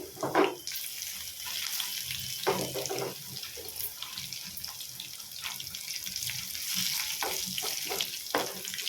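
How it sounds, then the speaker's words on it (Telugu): Onions and cumin seeds frying in oil in a pan, a steady close sizzle with a few stirring scrapes and knocks scattered throughout, and no talking. "ఎల్లిపాయలు కొంచెం దూరగా వేగినాయి కదా, జీలకర్ర వేసుకున్నాను"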